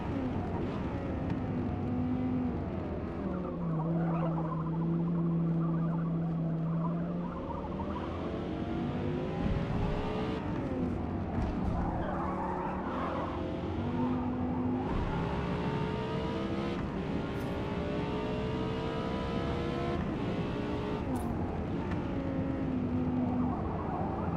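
A car in a racing video game holds a loud, continuous engine note that rises and falls through gear changes, with squealing tyres as it oversteers and drifts through corners.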